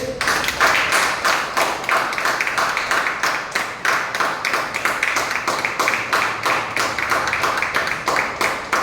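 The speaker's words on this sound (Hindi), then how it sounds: "तालियां बजाकर स्वागत करें" An audience claps steadily in rhythmic unison at an indoor business presentation event, the claps crisp and evenly paced throughout, fairly close and loud.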